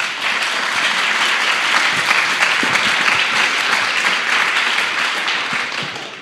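A studio audience welcomes the author Walter Vappiani with continuous, loud applause that stays full throughout and tapers off slightly near the end.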